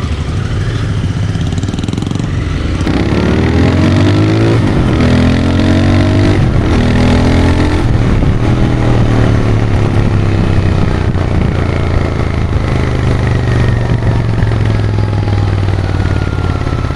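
A Royal Enfield Continental GT 650 motorcycle engine rumbles loudly and close by, idling with a steady low throb and rising in several rev bursts.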